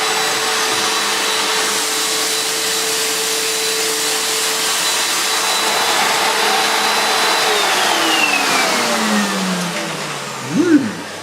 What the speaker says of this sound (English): Let's try the Dirt Devil, which is in high power